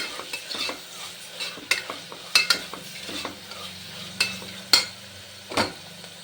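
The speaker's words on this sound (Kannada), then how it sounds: "ಇದು ಫ್ರೈ ಆಗ್ತಾಯಿದೆ" Ginger garlic paste frying in a pan for a chicken kurma with ghee rice, stirred with a spoon: repeated sharp scrapes and clinks over a low, steady sizzle, close by.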